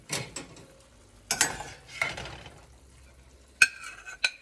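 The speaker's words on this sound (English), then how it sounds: "we're gonna remove this beef from the pan with a slotted spoon" Ground beef being lifted out of a pan with a slotted spoon: a few separate scrapes and metallic clinks against the pan, with faint sizzling between them and sharper taps near the end.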